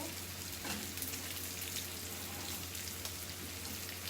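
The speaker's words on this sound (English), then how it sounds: "we will cover it now and let it pan fry" Turmeric curry fish pan-fries under a lid in a non-stick pan, giving a soft, even sizzle like light rain that carries on steadily and faintly with no pauses.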